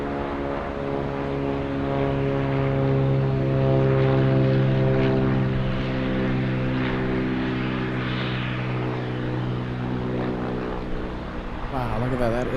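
A Cirrus single-engine propeller plane taking off at LAX, its steady droning engine loud and near throughout, with strong harmonic hum and a slight pitch shift near the end, while people talk over it.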